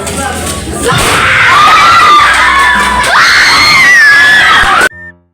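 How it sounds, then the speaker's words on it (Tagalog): A crowd of people screaming and cheering at a year-end party, loud and sustained shrill voices rising and swelling for several seconds before cutting off abruptly. "Grabe yun talaga yung sigaw namin"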